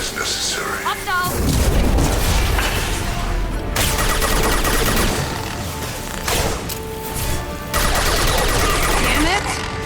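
Sustained automatic gunfire in Mass Effect 2 during a hectic battle, bursts of loud shots and booming impacts rattling almost continuously, with brief lulls, and voices calling out over the fighting.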